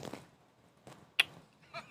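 In the Internet Cafe Simulator video game, an animal gives a few short bleats, fairly faint, separated by quiet gaps, with a sharper brief burst near the middle.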